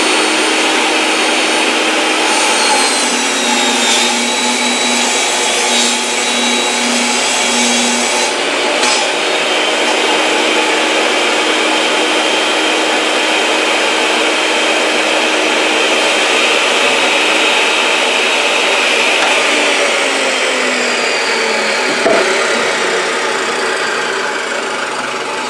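A table saw whines loudly and continuously while cutting through a thick HDPE plastic plate, its steady roar holding for the whole stretch with only slight shifts in pitch as the blade moves through the material.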